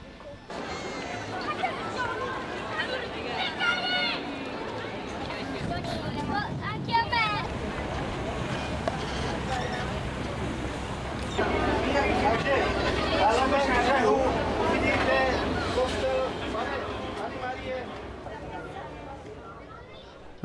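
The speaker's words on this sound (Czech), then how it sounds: "Lodí, která slouží jako místní doprava, proplouváme velkým kanálem." A local transport boat cruises along the Grand Canal in Venice, its motor hum blending with water wash and wind buffeting the microphone. Passenger chatter and voices run over it, swelling louder in the second half.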